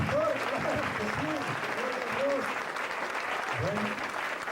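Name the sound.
applause for the pastor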